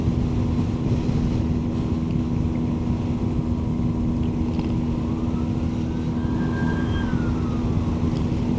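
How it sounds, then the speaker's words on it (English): A police car siren sweeps up and fades as it passes along a road, heard over steady loud traffic rumble and engine noise. "Another police car."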